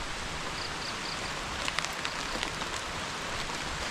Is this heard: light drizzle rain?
yes